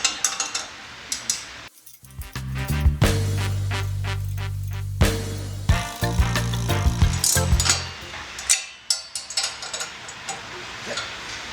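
Bolts being tightened on a whale tail retrofit for a Half Pint OD machine, a series of sharp metallic clanks and ratcheting bursts with a loud powered impact-like buzz in the middle, close and irregular.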